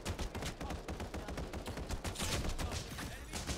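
Rapid automatic gunfire in the game Final Fantasy VII The First Soldier, a dense, continuous stream of quick shots over a few seconds, fairly faint and steady, with no clear talk.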